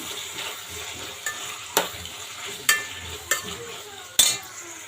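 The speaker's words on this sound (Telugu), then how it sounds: "ఒక స్పూను అల్లం వెల్లుల్లి పేస్ట్ వేసుకుందాము ఇది వేసుకుని ఒకసారి కలుపుకుందాము" A spoon knocks and scrapes against a pan in several distinct taps as ginger garlic paste is stirred into vegetables frying for mint rice, over a soft, steady sizzle.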